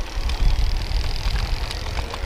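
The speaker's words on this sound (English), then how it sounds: "Instead of being in pedal assist level 1, I'm gonna go up to level 3 and I'm just gonna throttle it." BMEBIKES Night Hawk e-bike motor under throttle at pedal assist level 3, a close, rough low whir with fluttering road and wind noise.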